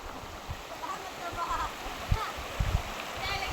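Flood water flows in a steady rushing wash, close and moderately loud, with a few splashes and low thumps breaking through.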